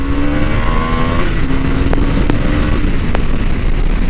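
A KTM Adventure 390 motorcycle engine drones steadily and loudly up close, its pitch rising then settling as it accelerates, with no voices.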